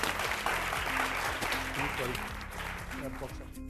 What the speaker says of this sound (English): Clap for Cameron.